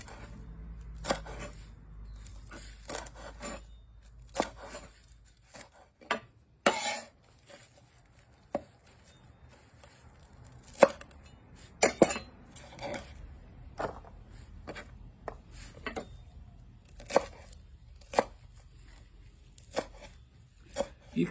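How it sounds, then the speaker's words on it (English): A knife chops vegetable stems finely on a cutting board for kofta burgers, with sharp, irregular taps spread across the whole stretch and quiet pauses between them; no one speaks. "And I cut the stems off first. And then I just cut them real small."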